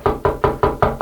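Five evenly spaced, loud knocks on a door, struck close up in a quick steady rhythm with no voices.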